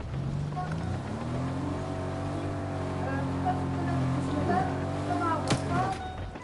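Vehicle engine in the Fortnite video game, a steady droning hum that revs up slightly near the end, with players talking over it throughout.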